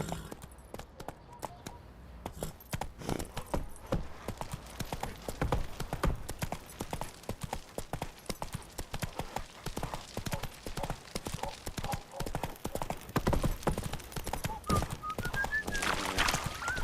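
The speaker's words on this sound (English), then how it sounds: "Whoa there, Roach" Horse hooves galloping in The Witcher 3, a fast steady clip-clop rhythm running throughout, loud and close, with brief spoken lines and a faint whistle near the end.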